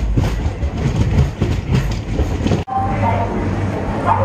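A passenger train on the Vikarabad–Secunderabad line passes Shankarpalli station, rolling with a steady rumble and rhythmic clatter of wheels, loud and close throughout; a brief dropout occurs midway.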